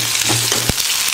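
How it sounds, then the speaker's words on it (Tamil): Onion and curry leaves sauteing in oil in a pan, a dense, loud, continuous sizzle heard close with one sharp knock of a utensil partway through. "வெங்காயம் நல்லா வதங்கிடுச்சு, கருவேப்பிலை போட்டுக்கலாம்."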